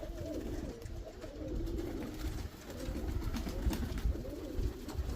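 Pigeons cooing inside a pigeon loft, soft low repeated coos layered over one another at moderate distance, quiet and continuous with faint background rustle.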